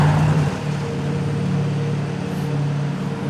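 A Shelby Series 1 car with a supercharged 4-liter V8 sets off, its engine droning loud and low with a steady rumble that shifts pitch slightly as it pulls away.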